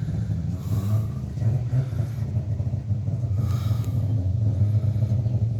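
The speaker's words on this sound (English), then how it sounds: "It's a Saab 2-stroke. Yeah, it's a 2-stroke Saab." A two-stroke Saab car drives past as a steady, buzzing engine rumble at moderate distance, with no one speaking.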